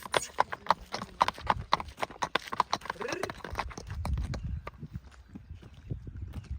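Hooves clip-clop in a steady walking rhythm, close by, with a low rumble of movement joining in toward the end.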